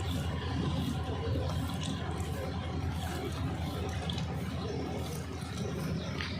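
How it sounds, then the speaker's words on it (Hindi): Water is poured from a glass into an Mpro 2500e appliance, giving a steady close splashing trickle that runs on without pause. "ये देखो मैं इसके अंदर पानी डाल रहा हूँ।"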